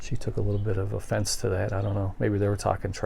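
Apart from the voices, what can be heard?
None of the usual background noises is heard.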